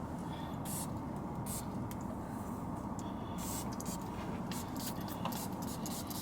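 Several short hissing bursts of Mancera Tonka Cola perfume spray, close and fairly quiet, come in quick irregular puffs over a soft steady background hiss.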